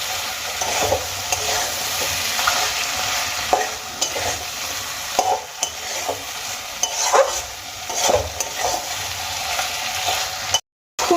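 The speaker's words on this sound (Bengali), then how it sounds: "এবার এই মশলার সঙ্গে মাছের মাথাগুলো খুব ভালো করে কষিয়ে নেব" Fish heads sauté with spices in a pan: a loud sizzle under repeated spatula scrapes and knocks in an uneven stirring rhythm, ending in a brief cut to silence.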